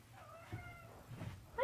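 A cat indoors lets out a couple of faint, drawn-out meows at a distance, soft against a low room hum.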